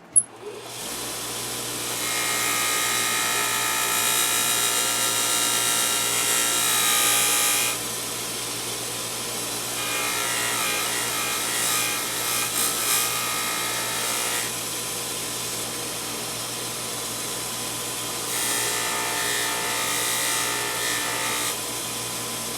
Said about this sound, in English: I'm going to finish the smoothing with the deburring wheel